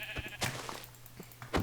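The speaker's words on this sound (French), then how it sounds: "Il y a des petits moutons, on va en tuer quelques-uns, je pense." Sheep bleat in a Minecraft-style video game, with a short bleat and a few thumps and clicks in quick succession.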